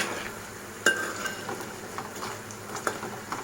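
Potato pieces and curry leaves fry in hot oil with a steady sizzle, broken by a sharp clink of a utensil and a few softer stirring taps, close by and with no talking.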